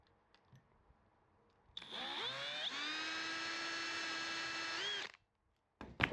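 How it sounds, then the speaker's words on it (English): Power drill boring pilot holes in a metal hinge half for a Sonex nose gear cowling cover, whining up in pitch and running steadily for about three seconds before spinning down, alone in a quiet workshop. "So I'm going to start by drilling pilot holes in this hinge half."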